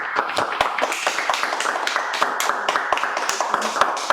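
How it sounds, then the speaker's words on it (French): An audience at an Academy presentation applauds with a dense, steady patter of hand claps, fairly close and continuous with no voices over it. "toute l'Académie vraiment vous applaudit"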